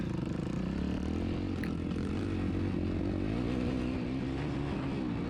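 Kawasaki KX250 dirt bike engine droning steadily at close range as the rider sets off toward a straightaway behind a lake, a continuous loud motor hum with no talk.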